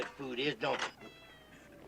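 A cat meows twice in quick succession, close by and moderately loud, followed by quieter room ambience; a voice is also present.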